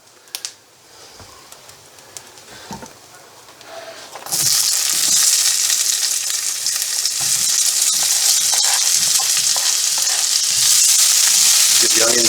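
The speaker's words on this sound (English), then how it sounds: "we're basically going to just fry this stuff off" Chilies, garlic and ginger hit a hot pan and break into a loud, steady sizzle that holds for the rest of the clip, after a few quiet knocks and clatters of preparation at the start.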